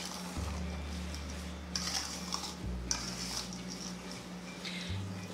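Cake batter with cheese beaten by hand in a bowl, a steady soft scraping and clinking of utensil against the dish over a low constant hum, with no talking.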